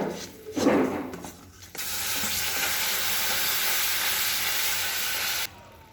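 Water poured into hot caramel in a pan over a medium flame, first some stirring and scraping, then a sudden loud, steady hiss of steam that holds for several seconds and cuts off abruptly.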